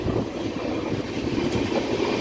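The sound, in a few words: train running on rails past Hatkesar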